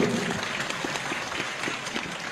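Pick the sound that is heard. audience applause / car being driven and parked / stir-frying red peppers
audience applause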